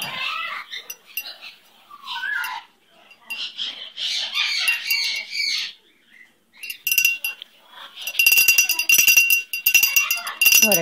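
A pet bird chirping and squawking up close, with bright repeated calls and harsh cries mixed with a person talking, then metallic jingling of a small silver bell near the end.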